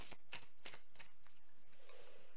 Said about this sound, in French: on va aller piocher des cartes